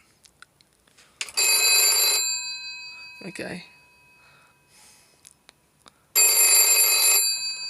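A GPO 746 rotary telephone's bell rings in two loud, sustained bursts separated by a pause, with a brief spoken word and small handling noises between the rings.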